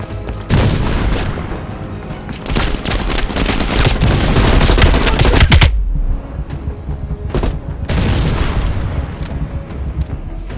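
Machine gun fire in the Call of Duty: Black Ops Cold War video game, loud sustained bursts mixed with heavy booms and explosions, a short lull near the middle, then more firing, with no voices.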